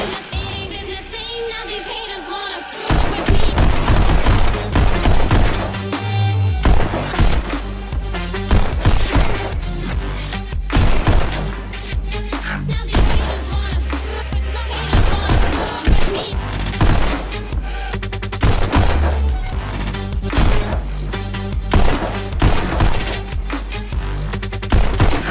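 Rapid gunfire from the Pistol Whip VR shooting game, loud and continuous bursts of shots layered over a driving electronic music track, with no talk.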